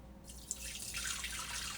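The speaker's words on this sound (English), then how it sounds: "So I'm going to pour this over into my strainer" Homemade ginger turmeric juice is poured into a strainer, a steady, close splashing and trickling stream that begins after a brief quiet moment and continues alone.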